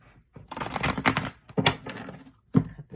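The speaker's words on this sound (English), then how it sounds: "One more shuffle." An oracle card deck of fairy cards being shuffled, giving a few quick papery riffling bursts, close and moderately loud, separated by brief pauses with no talking.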